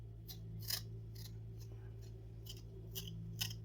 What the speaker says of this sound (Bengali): সবার প্রথম আলুটাকে ছিলে নেব।